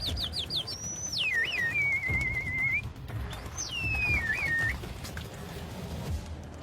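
A man whistles to call pigeons to his coop in Egypt: a few quick rising chirps, then a long sliding warbled whistle, a pause, and a second shorter warbling whistle over faint outdoor background noise.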